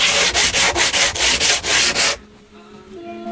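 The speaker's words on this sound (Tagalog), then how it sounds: "nililihan na natin" Sandpaper rubbed back and forth over dried wood filler on a wooden hanging bed, loud close rhythmic rasping strokes about four per second that stop abruptly, leaving a quiet hum.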